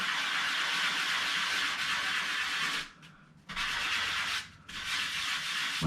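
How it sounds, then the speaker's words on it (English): Hand sanding scrapes over a drywall mud patch on a wall in a mid-century ranch home, steady close rasping strokes with two brief pauses between passes, no voices. "I'm just gonna sand this area."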